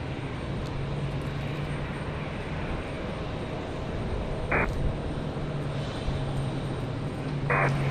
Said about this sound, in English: Copa Airlines getting ready to head back to Panama City, Panama.